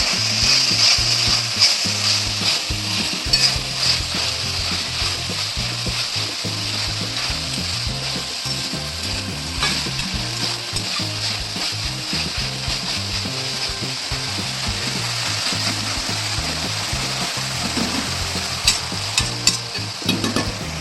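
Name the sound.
frying and stirring mint and coriander in oil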